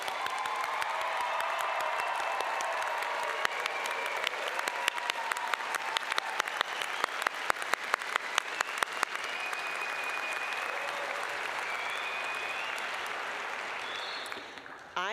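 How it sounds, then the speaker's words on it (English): A commencement crowd for a veterinary medicine graduating class claps in a broad, sustained wave of applause. Some individual claps stand out sharply, and a few faint cheers rise before it tapers off. "And now it's time for one more round of applause for the class of 2025."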